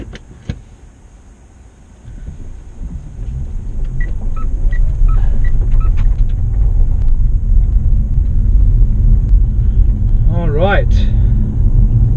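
Mitsubishi Outlander PHEV heard from inside the cabin, quiet at first, then a low road and drivetrain rumble builds and settles into a steady cruise at about 60 km/h, with a brief spoken phrase and a few clicks and beeps.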